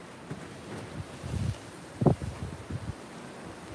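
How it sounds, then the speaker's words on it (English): Strong blizzard wind in North Dakota buffets the microphone in uneven low gusts and rushing bursts, with two sharper blasts, heard close and loud with no voices. "Look at this wind."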